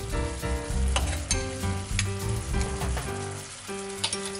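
Cold butter pieces hitting a hot pan with orange juice, a loud, close, continuous sizzle and bubbling with occasional stirring clinks, no voices.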